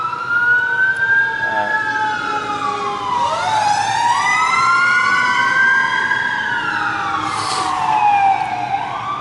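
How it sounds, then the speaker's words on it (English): A fire engine siren wails and yelps loudly as the truck passes nearby, its rising and falling tones sweeping and shifting in pitch over several seconds, with no talk. "There is some fire department going by."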